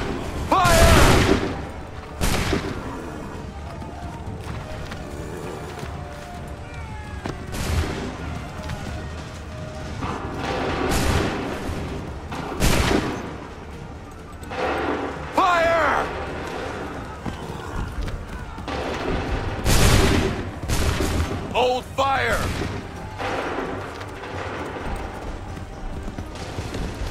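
Musket volleys in Assassin's Creed III crack out as repeated loud booming bursts spaced through the battle, with horse hooves clip-clopping and soldiers shouting between the shots.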